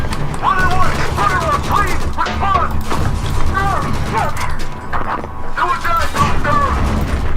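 Battlefield 4 video game combat on the Singapore mission: loud, close gunfire in rapid bursts with heavy booms and mechanical clatter, a dense battle din running nearly continuously while a voice talks over it.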